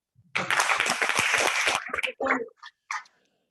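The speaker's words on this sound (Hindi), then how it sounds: "ताली मारो।" A short burst of audience clapping at a training session, loud and dense for about a second and a half, then tapering into a few scattered claps and brief voices.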